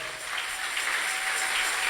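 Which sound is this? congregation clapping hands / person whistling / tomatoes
congregation clapping hands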